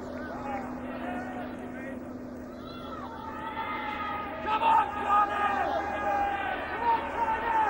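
Crowd of over 20,000 at the 1996 Heineken Cup final rugby match between Toulouse and Cardiff, a steady broad roar with swelling cheers midway, heard beneath continuous commentary.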